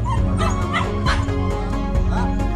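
A dog barks in short yips and whimpers repeatedly, close and fairly loud, with high-pitched whining between the barks.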